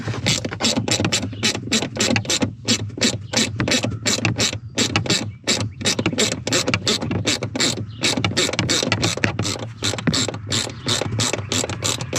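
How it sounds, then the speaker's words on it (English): A ratchet with a 9/32 socket working out a small bolt on a Ford Bronco passenger trim panel, a rapid, continuous run of crisp clicking pawl strokes, close and loud, with no talk. "it's a 9/32 socket to get that little bolt out"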